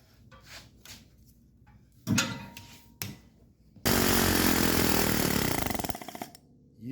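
A loud, sustained burst of rapid pneumatic air hammering on a welded car body panel runs for about two seconds, preceded by a few shorter clanks and knocks.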